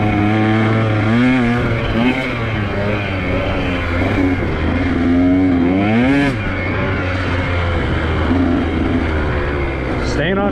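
A dirt bike rides a red trail lap at Danitek, its engine droning steadily and close, with rising and falling revs as the rider works through the terrain; someone speaks intermittently over the motor.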